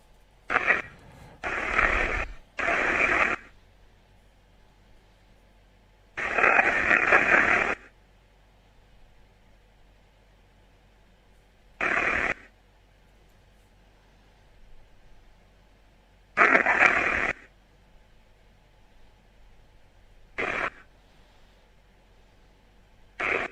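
A radio spirit box sweeps through channels, giving short bursts of harsh white noise static separated by long near-silent gaps, roughly eight irregular bursts in all.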